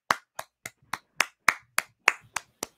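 Hand claps at a comedy show, about ten sharp, isolated strikes at an even, steady rhythm, each clear and close with silence between them.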